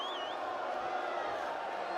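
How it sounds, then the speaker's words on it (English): Wrestling crowd at a Lucha Libre show voicing disapproval of Chavo Guerrero, a moderately distant, sustained wash of mixed jeers and shouts with one brief whistle, heard alone for two seconds. "The crowd voicing their opinion of Chavo Guerrero."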